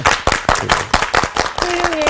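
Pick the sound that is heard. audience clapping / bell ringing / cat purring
audience clapping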